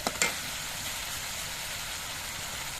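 Tomato and spice masala fries in a pan for a koi fish curry, giving a steady close sizzle after a couple of quick utensil clicks at the start.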